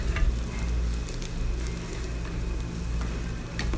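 Shallots and chilli fry in a pan for Chettinad chicken fry, a steady close sizzle with light crackles and spatter throughout, and no one talking.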